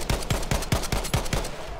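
Rapid bursts of gunfire from the Battlefield V video game, about seven evenly spaced loud shots in quick succession, close and punchy with no voices.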